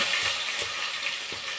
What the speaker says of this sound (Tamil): அப்புறம் சோம்பு போட்டுக்கிட்டேன். சோம்பு பொடிஞ்சிச்சு.